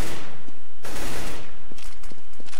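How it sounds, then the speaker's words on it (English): Tec-9 pistol fire in a Counter-Strike match at an ESEA Open Asia-Pacific game, with loud, close rapid shots over dense in-game noise. "Kerbal gets taken down by the Tech 9 again. This gun, such a powerful weapon"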